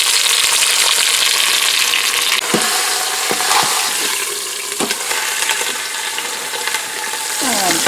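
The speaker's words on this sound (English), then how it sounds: "Just going to get a little sizzle going on here so that we seal the juices into the meat." Beef searing in an Instant Pot pressure cooker, a loud continuous sizzle and spatter of hot fat with a few sharp clicks of the meat being moved, close and unbroken.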